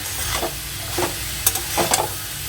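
Taro (kochu) hits a hot pan for a Bengali curry and is stirred. A dense, close sizzle fills the short stretch, with a few sharp scraping strokes of the spoon over it.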